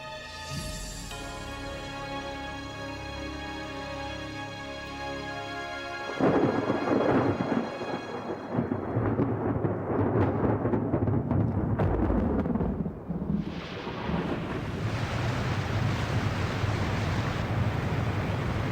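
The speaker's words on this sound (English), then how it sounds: "When the storm finally breaks, the baked soil is quickly saturated." A deep rolling rumble of thunder fades out, followed by a loud crack and the steady hiss of heavy rain pouring down.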